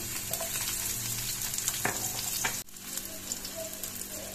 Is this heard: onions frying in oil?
yes